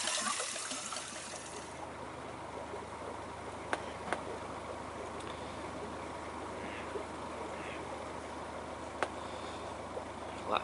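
Water trickles steadily into a narrowboat's water tank on a canal, a continuous faint gurgling stream with a few small clicks and knocks over a quiet outdoor background.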